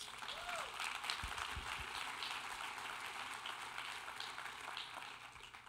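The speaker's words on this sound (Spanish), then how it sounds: "Un aplauso a Jesús entonces." Church congregation applauding during a sermon, a fairly faint, steady patter of many hands clapping that carries on for several seconds with a few low thumps early on.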